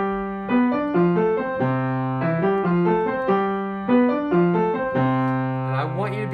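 A keyboard plays a syncopated boogaloo groove built from primary triads, bouncing chords over a steady bass, close and clear with no voices heard.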